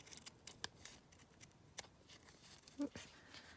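Scissors cutting a paper bag tag for a junk journal: several quiet, close snips in an irregular rhythm, with faint rustling of paper between them.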